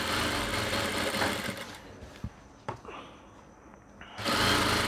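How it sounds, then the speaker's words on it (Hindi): A sewing machine stitching cloth for a daman hem runs in a steady, close mechanical whir for about two seconds, drops into a few brief clicks and taps, then starts up again at full level near the end. "ये इसकी नोक से हमने सिलाई लगाना स्टार्ट करनी है"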